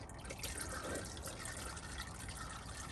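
Water drains slowly out of a mobile detailing van during repair work, a steady soft trickle and dribble with faint dripping over a constant wash of background hiss.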